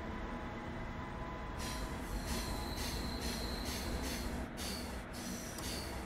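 An ICE high-speed train at a station, loud and close, rolls steadily with a continuous rumble while its wheels give off repeated high squeals, in bursts at first and then almost constant.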